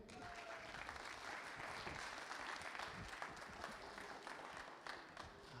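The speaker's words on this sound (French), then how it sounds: "Alors, un applaudissement," Dense, steady applause from a large audience fills the room at an awards ceremony for pitch-competition winners at the DigiWorld Summit 2011, continuing evenly throughout with no pauses.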